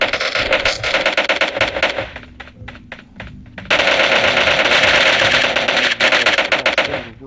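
Automatic gunfire in a PUBG zombie survival mode: long, loud bursts of rapid shots, a short stretch of sparser single cracks in the middle, then another sustained barrage.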